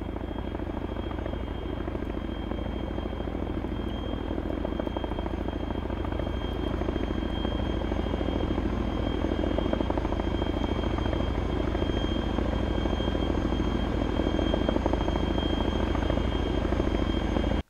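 A helicopter in the military video game Arma 3 gives a continuous loud rotor thump and engine drone with a steady whine, holding at an even level throughout.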